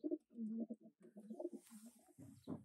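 Pet pigeons coo softly in a home coop, a close run of low, throaty rolling calls repeated several times with brief pauses between them.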